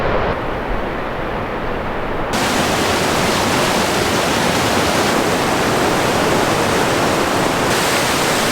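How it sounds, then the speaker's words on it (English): Creek flowing out of Camp Lake at its inlet into Four Creeks Lake in remote wilderness, a steady, loud broadband rush of moving water filling the whole stretch without pause. "This is the creek that comes out of Camp Lake, and we're fishing the inlet here into Four Creeks Lake."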